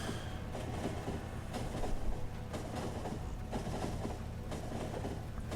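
A construction train in Factorio running along rails, a continuous rumbling roll with regular rhythmic clacks, moderately loud and steady throughout.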